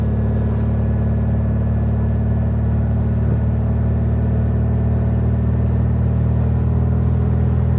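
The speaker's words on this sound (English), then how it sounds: "Car's running good though." An old Volkswagen Bug's engine hums and rumbles steadily while the car drives along a street, with a constant low drone close by and no voices over it.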